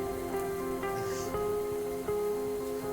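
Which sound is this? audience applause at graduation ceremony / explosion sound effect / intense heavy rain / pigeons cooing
intense heavy rain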